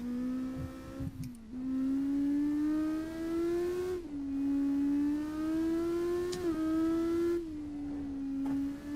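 A Formula Student race car engine screams at high pitch, holding a sustained whine that climbs steadily, breaks briefly during gear shifts, then climbs again, loud and close.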